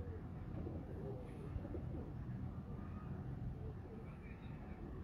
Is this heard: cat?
no